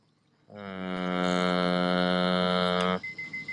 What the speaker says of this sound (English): Once it starts blinking and giving me the beep, beep, beep, beep, beep, that means it found something it deems worthy.